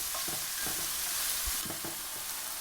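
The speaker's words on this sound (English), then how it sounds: "Give it a quick saute and allow all the flavors to steep and just slightly saute" Aromatics for a lamb tagine sautéing in a pan, a steady close sizzle with soft scrapes of stirring running throughout, no voices.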